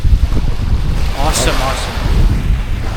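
Lake waves lap against the shore at Point Pelee national park in Canada, with steady wind buffeting the microphone in a loud, continuous outdoor roar. A voice speaks briefly under it.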